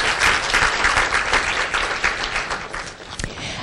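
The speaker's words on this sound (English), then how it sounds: "If you would give them a round of applause." Steady, full applause from a luncheon audience at an awards event, a dense wash of clapping hands that continues throughout at fairly even loudness.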